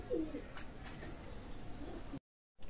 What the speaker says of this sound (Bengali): আমি আর এক পেয়ার কবুতর দেখাচ্ছি